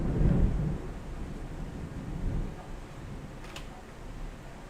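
Thunder rumbles outside with a low roll at the start and a fainter one after, under a steady hiss of rain, heard indoors at moderate distance.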